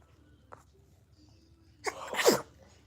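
A single sharp sneeze bursts out near the end, loud and close, after a quiet stretch with a faint click earlier.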